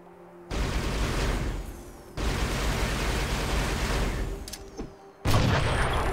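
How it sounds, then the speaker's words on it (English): Heavy broadband blasts and rolling booms from grenade explosions in Halo: Spartan Assault, two long loud bursts separated by brief silence, then a third sharp burst at the end, no voices. "Oh, I can just use a grenade."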